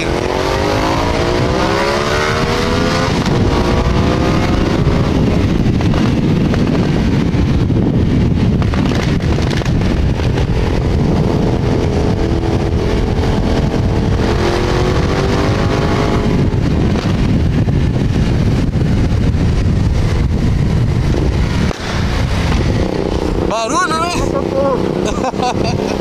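Riding a GTR 650 motorcycle with a passenger aboard, the engine drones and rises through gears under heavy wind rush against the microphone, steady and loud throughout, with occasional speech.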